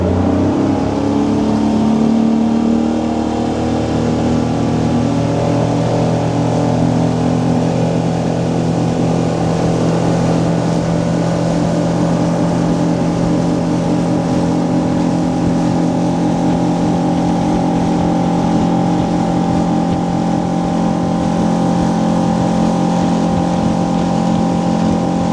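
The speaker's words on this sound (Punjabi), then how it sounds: "ਹੁਣ ਇਹ ਚੱਲ ਪਿਆ ਇਹਨਾਂ ਦਾ ਮੋਟਰ" A motor starts up and then runs at a steady, loud drone. The hum holds constant and close with no pauses.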